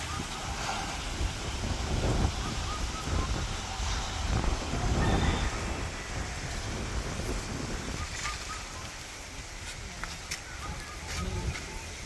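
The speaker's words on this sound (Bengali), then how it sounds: "খুব বাতাস।" Strong wind blows across open crop fields before rain, buffeting the microphone in gusty surges that rise and fall, with people talking faintly beneath the rushing noise.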